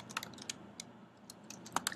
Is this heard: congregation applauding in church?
no